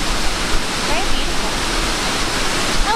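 Soco Falls, a waterfall in the North Carolina Smoky Mountains, pours in a steady, broad rushing roar that holds even throughout, with faint bird chirps now and then.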